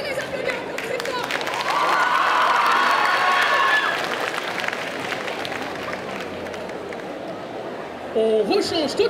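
Audience at a Sunday cosplay parade at a geek festival in Bordeaux, cheering and applauding loudly for several seconds, the crowd noise swelling and then fading into a steady murmur, with a brief burst of voices near the end.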